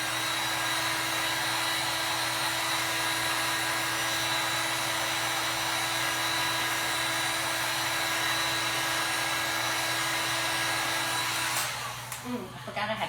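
A heat tool blows steadily at wooden trim to soften it, a loud, even electric whir with a constant hum that holds for most of the stretch before being cut off and followed by brief handling noises.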